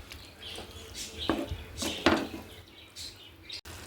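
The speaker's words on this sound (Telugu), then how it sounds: "వీటన్ని ఒకసారి కలుపుకుందాం." Turmeric, salt and chopped tomatoes being stirred in a curry pan, with a few clinks and scrapes of a spoon against the metal that come and go over faint background noise.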